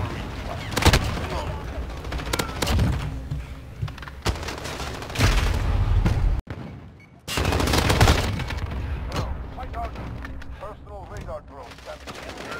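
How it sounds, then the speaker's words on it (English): Cluster bomb blasts and heavy gunfire in the Modern Warfare video game, with loud rolling booms, rapid automatic bursts and a brief sudden drop midway, dense and continuous, with occasional voices under the battle. "Cluster bomb."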